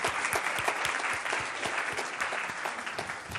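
Audience applauding two young girls at a governor's budget town hall, with dense, steady clapping close by and sharp individual claps standing out throughout.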